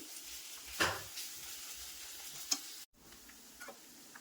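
Ginger garlic paste fries in a pan after onions for coriander chicken fry, a faint, soft sizzle with a few sharp clicks of a spoon, briefly cut by a moment of silence.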